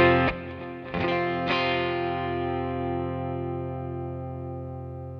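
A few plucked electric guitar notes ring out through a Keeley Aria compressor pedal, then a single chord sustains smoothly and evenly for several seconds, slowly fading.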